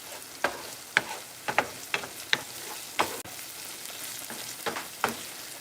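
Sausage sizzles in a hot pan while being stirred, with sharp scraping and clattering bursts at an irregular pace over a soft, steady frying hiss.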